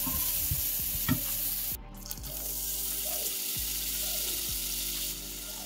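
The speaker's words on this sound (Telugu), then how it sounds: "కడాయిలో కొంచెం ఆయిల్ తీసుకుని ఆస్పరాగస్ని స్టిర్ ఫ్రై చేద్దాం ఫస్ట్." Asparagus stir-frying in oil in a kadai gives a steady close sizzle, with a spatula scraping and clinking against the pan at intervals and no voices.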